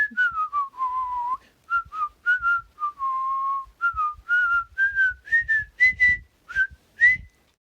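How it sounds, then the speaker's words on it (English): A person whistles a short, wandering little melody, clear and close, in a string of separate phrases with small pauses, alone with only faint background movement beneath. "whistles a little tune as we're walking along"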